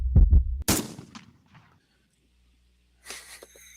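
Cannon fire sound effect: a deep, loud boom with a sharp blast that rolls off into a decaying rumble, then near silence before a brief hissy burst of noise.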